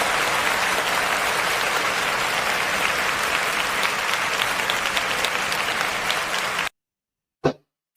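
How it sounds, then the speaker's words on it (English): An audience claps loudly and without a break for nearly seven seconds, then the clapping stops abruptly, leaving silence except for one short bump. "let's give her a round of applause"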